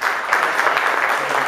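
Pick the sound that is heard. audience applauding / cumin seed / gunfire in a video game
audience applauding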